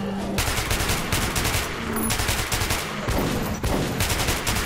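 Rapid gunfire from the video game Metro 2033 Redux, loud sustained automatic bursts with short gaps, close and dense throughout.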